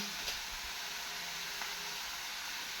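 Salt hitting a hot tawa griddle in a home kitchen sets off a steady, hissing sizzle at moderate level. A couple of faint ticks break it, and no one speaks over it.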